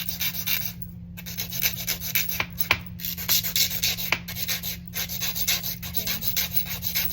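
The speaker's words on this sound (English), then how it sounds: "And then you just keep filing, you know, just depending on your client." Acrylic nails being filed into a coffin shape give a rapid, rhythmic rasping scrape, steady back-and-forth strokes close up with brief pauses between runs.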